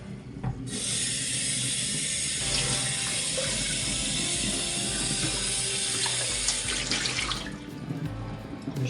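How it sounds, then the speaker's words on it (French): Immersion blender blade being rinsed in a bowl of water after blending leek soup, a close, steady splashing and swishing of water lasting several seconds before cutting off. "Et 2 ou 3 fois je rince l'hélice de mon robot"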